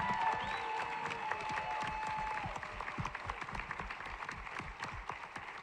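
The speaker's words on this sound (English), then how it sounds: "Please give Deanna a round of applause." Sustained applause and clapping from a political rally crowd greeting a newly introduced state co-chair, dense and steady throughout with a few whoops rising above it.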